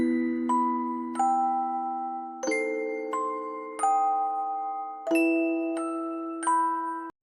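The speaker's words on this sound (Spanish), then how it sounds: "El eco de la campana." Echoing bell tones in a funeral setting, a series of clear ringing strikes in an uneven melodic pattern, each ringing on and decaying slowly into the next, resonant and alone with no voices.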